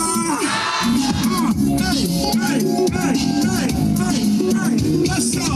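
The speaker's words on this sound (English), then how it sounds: "let's listen to the crowd" A large crowd cheers and chants together in a loud, dense wall of voices that carries on without a break, with sung vocal lines rising above the roar.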